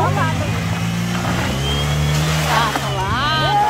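A car engine revving hard while stuck in a flooded street, loud and close, with people talking over it throughout.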